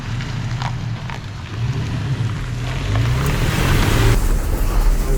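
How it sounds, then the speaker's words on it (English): Pickup truck being driven and repositioned on wet ground, a low engine rumble with a modest rise in effort toward the end, mixed with splashing, hissing texture. "I'll move my truck over"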